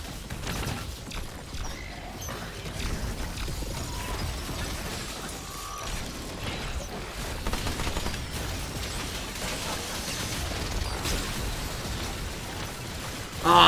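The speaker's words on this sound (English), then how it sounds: "look at that turret hitting at the weak spot" A turret in the video game Remnant 2 fires steadily at an enemy's weak spot, a dense, continuous clatter of shots and mechanical impacts with muffled bursts, loud and sustained throughout.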